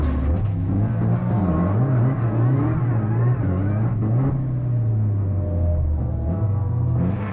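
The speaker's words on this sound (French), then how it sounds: "On revoit ce départ depuis l'habitacle de la Peugeot de Delancre" Onboard Peugeot 308 Racing Cup race car at the start of a Hundred Series race at Zolder circuit, its engine roaring loud and close throughout, pitch rising and falling as it accelerates through the gears.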